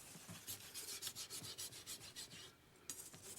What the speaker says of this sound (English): Mr. Oda, Japan's best-known knife sharpener, hones the middle of the blade road.